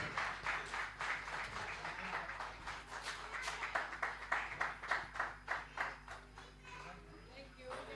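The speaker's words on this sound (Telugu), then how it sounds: "ప్లీజ్ క్లాప్స్ అండి అందరూ." An audience claps at a gift presentation during a gathering, with rhythmic applause building over several seconds under ongoing talk and crowd murmur.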